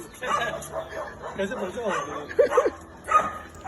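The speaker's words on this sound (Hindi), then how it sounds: "जो बहुत ऊंचाई पे चढ़ के भौंके जा रहा था नॉन स्टॉप" A dog perched up high near a temple above a river barks repeatedly, mid-distance, under continuous talking and ambient noise.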